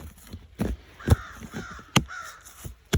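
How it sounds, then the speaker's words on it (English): Crows caw outdoors in a series of harsh, hoarse calls, several loud and close, spaced irregularly about half a second to a second apart over a quiet background. "Well, hello to you, Mr. and Mrs. Crow."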